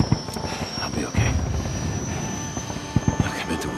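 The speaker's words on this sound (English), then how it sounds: "We gotta get on that chopper." A helicopter in the Days Gone video game whirs steadily with a droning rotor hum, while scattered thumps and knocks sound over it and a voice speaks briefly.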